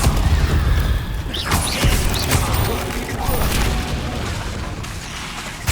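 A Confringo spell explodes in the video game Hogwarts Legacy, giving loud booming blasts with crashing debris and magical whooshes that overlap one another.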